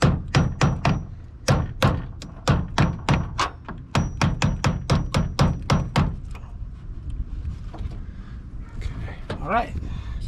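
Sharp, rapid hammer-like strikes repeat in a steady rhythm for about six seconds, then give way to quieter shuffling and faint voices.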